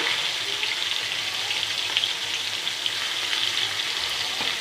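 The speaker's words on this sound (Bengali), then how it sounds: "প্রথমে আমি এখানে লবণ হলুদ দিয়ে মেখে রাখা জাপানি মাছের পিসগুলো ভেজে নিচ্ছি" Japanese fish pieces rubbed with salt and turmeric frying in hot oil, a loud continuous crackling sizzle running steadily from start to finish with no one talking.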